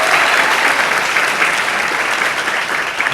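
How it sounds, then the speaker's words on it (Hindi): Audience applause at a Bollywood film jukebox launch event honoring actress Kangana Ranaut's election win, steady dense clapping from a crowd throughout, loud and sustained. "एक बार तालियां बजनी चाहिए इनकी जीत के लिए।"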